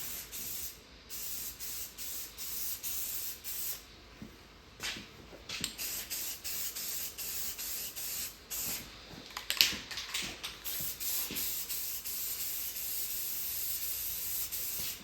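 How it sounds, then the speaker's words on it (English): Krylon or Rust-Oleum spray paint hisses from a can in light bursts onto a broken pinball head. The sustained hiss comes close and steady, with short pauses and faint rattles between passes. "I might have to put some light Krylon or Rust-Oleum on here."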